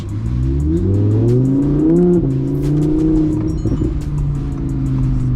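A 1000-horsepower Audi R8 engine revs up close and loud, its pitch climbing smoothly as it accelerates, then settling into a steady hum.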